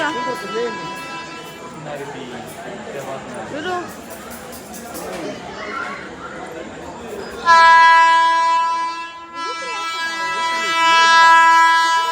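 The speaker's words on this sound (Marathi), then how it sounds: "झुकझुक रेलगाडी बघ" A train rumbles past with voices talking over it, then a loud sustained horn blares close by and holds for several seconds.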